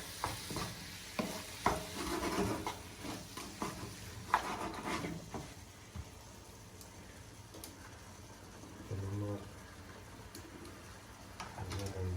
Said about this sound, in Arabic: الكالامار يقع بزاف كيولي كيما بحال الكاواتشو. كاين اللي كيسلقو، انا نفضل نشحرو في المقله